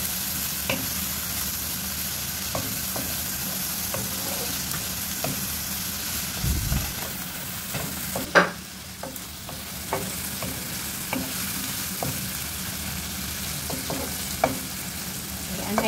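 Two chopped tomatoes sizzle and sauté in a hot pan, with a continuous close frying hiss, occasional scrapes and clinks as they are stirred, and one louder knock midway.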